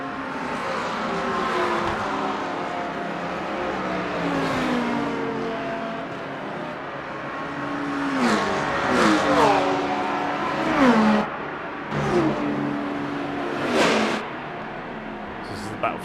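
Hypercar race cars in an endurance racing video game at Fuji, engines droning and shifting with rising and falling pitch as cars close on slower traffic, a continuous loud blend of several machines under a commentator's voice.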